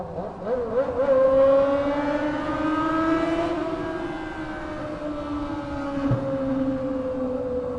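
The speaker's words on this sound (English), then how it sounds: "you should do a video where you ride through a tunnel with no muffler." An unmuffled vehicle engine roars through a tunnel, a loud echoing harmonic drone that climbs in pitch as it revs, then holds and slowly eases off while staying close.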